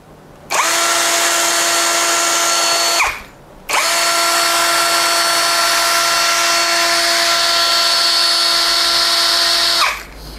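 Asake 21V 13 mm cordless drill whirs loudly and steadily in two runs, a short burst then a longer spell, with a high motor whine and a clean stop after each.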